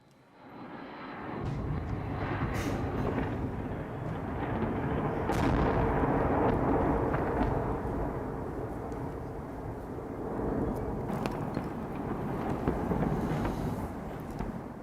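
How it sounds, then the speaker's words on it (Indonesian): Heavy rumbling booms and blasts roll on continuously over Kyiv in the early morning, loud and dense, like distant explosions mixed with a droning aircraft engine. "Beberapa ledakan keras terdengar di ibu kota Ukraina sepanjang dini hari."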